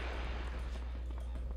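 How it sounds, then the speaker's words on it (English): A Vulcan cannon in Blood II fires a dense, continuous rumbling burst, loud and steady with a heavy low-end drone for a couple of seconds. "Vulcan cannon."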